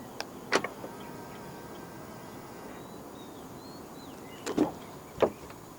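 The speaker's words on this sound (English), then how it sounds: "And to unlock the car, just press the button on the driver's side door handle again." Pressing the driver's door handle button unlocks a 2025 BYD Atto 2 Premium: sharp mechanical clicks near the start, then a pair of quick clacks near the end, each brief and close, with quiet outdoor ambience between them.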